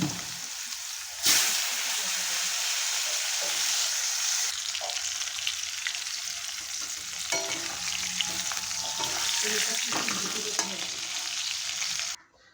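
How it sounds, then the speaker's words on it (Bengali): Cut potatoes and cumin seeds frying in hot oil after fish, loud continuous close sizzling and crackling with occasional stirring scrapes, running for most of the time before cutting off abruptly. "এখন তেলের উপর দিয়ে দিলাম জিরে, আর কেটে রাখা আলুগুলো এখন দিয়ে দেবো।"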